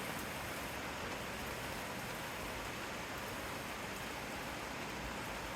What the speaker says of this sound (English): we finally got some rain